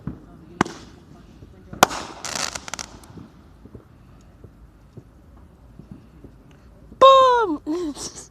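Fireworks go off in a few sharp, separate bangs and crackles, with quieter pops in between, followed by loud excited voices.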